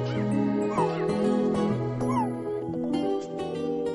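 Kittens in the Nintendo 3DS game Nintendogs + Cats give several high, short meows over steady background music.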